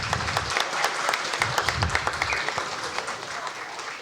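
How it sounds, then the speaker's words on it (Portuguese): An audience applauds a group of students at a municipal elementary school event, a dense, steady wash of many hands clapping at moderate distance for the whole stretch. "Uma salva de palmas para vocês."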